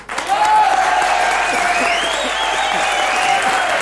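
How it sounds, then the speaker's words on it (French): Loud, sustained applause from an audience fills the room, with a cheer or whoop rising above the clapping. "on applaudit"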